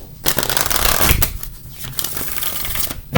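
Close, crisp card shuffling in a steady papery rush, ending with a quick tap as the deck settles; no voices.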